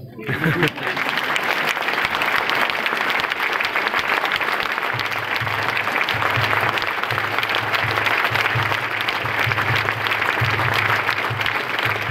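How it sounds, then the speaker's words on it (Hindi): Continuous applause from a large audience at a business seminar, a steady dense wash of clapping throughout with no gaps, loud and close. "आप कंटिन्यू ताली बजाते रहो।"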